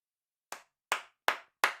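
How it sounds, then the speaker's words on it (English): Four separate sharp bursts of clapping at an Australian Football League match, evenly spaced and clean against silence, each fading quickly, with no voices. "And listen to the crowd."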